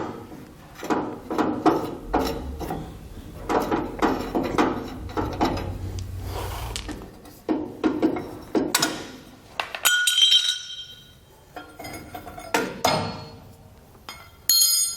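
Wrench removing nuts from the U-bolts of a Dexter trailer axle on a 1917 Ford Model T, a series of close metallic clinks, ratcheting clicks and knocks in irregular bursts with short pauses.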